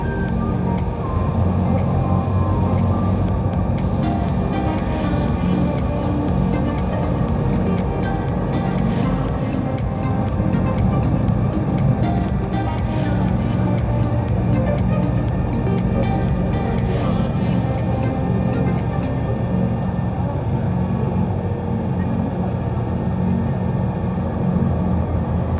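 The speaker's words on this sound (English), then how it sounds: "the complimentary transfer shuttle bus to Ravenna" Continuous low rumble of a complimentary transfer shuttle bus riding through Ravenna, with steady engine and road noise throughout and a run of regular sharp clicking ticks partway through.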